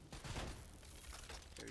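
Rapid gunfire bursts from the Call of Duty: Black Ops 3 campaign, dense and continuous over game ambience for under two seconds.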